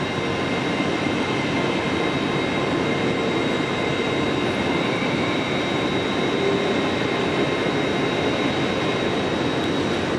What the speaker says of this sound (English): there goes the Harrogate train